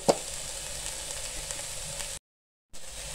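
Bread chicken pocket filling frying lightly in a pan, giving a steady, soft sizzle with a brief sharp click at the start and a short gap of silence near the end.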